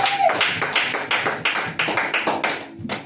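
Church congregation clapping during a worship service, a dense run of crisp, rapid handclaps in rhythm that sound fairly close and fill the space without pause, with no talk over them.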